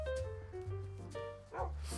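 Minecraft dogs bark in quick repeated yips and bow-wows, several overlapping in steady game audio with no talk.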